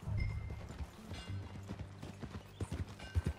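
Horse hooves clip-clopping during a ride in the video game Red Dead Redemption 2: a close, fairly quiet run of irregular hoof thuds with faint mechanical rattles, and no talking.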